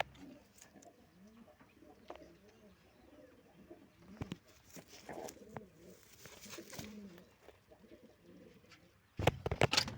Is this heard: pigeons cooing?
yes